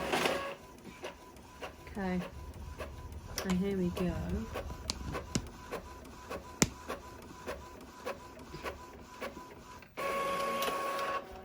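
An Epson EcoTank printer runs off a sublimation design for a T-shirt, giving steady mechanical whirring with repeated clicks and a louder buzzing pass near the end, while a person talks briefly over it.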